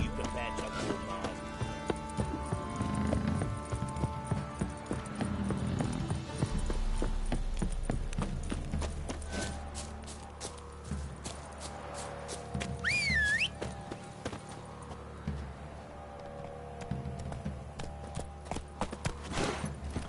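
Roach, a horse in The Witcher 3 video game, gallops with a steady clip-clop of hooves, mixed with game music and a voice talking over it.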